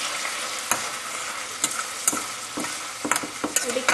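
Onions frying for Sri Lankan seeni sambol, sizzling steadily in a pan while a utensil scrapes and stirs them in irregular sharp strokes, close and alone without talk.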